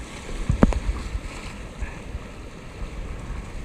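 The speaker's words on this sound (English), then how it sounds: "Big waves," River waves rush and churn around a kayak on the Wenatchee River between Leavenworth and Cashmere at 1750 cfs, just below a dam, with a few splashy bursts early on over a steady watery wash.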